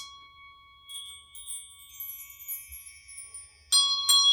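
A metal bell used in a sound healing session rings with a long, shimmering sustained tone that slowly fades, followed near the end by two sharper strikes or chime hits, heard close and clear with no talking.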